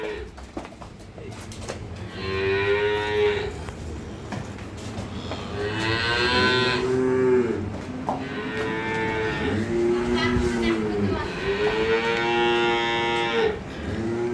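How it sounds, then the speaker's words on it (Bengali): A large dairy cow moos several times in long, drawn-out calls, loud and close, with short pauses between them and faint background noise. "একেবারে হাতির মতো গরু"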